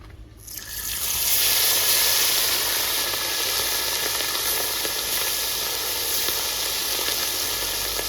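Small fish frying in hot oil make a loud, continuous crackling sizzle that swells up within the first second and holds steady to the end.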